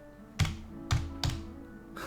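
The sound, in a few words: typing on a computer keyboard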